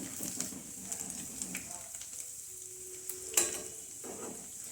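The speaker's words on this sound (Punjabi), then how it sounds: "ਹੁਣ ਵੀ ਆਪਾਂ ਅਦਕਰ ਦਾ ਤੜਕਾ ਲਾਵਾਂਗੇ" Soft sizzling of ginger frying in hot oil for tempering, with light stirring and a brief clink of a pan.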